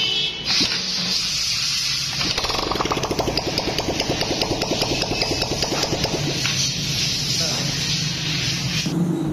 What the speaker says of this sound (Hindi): बाइक अल्हम्दुलिल्लाह स्टार्ट हो गई है।